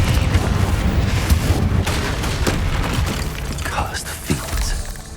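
A Confringo explosion spell goes off in Hogwarts Legacy as a loud, broad blast that rolls out over combat noise. A voice can be heard alongside it.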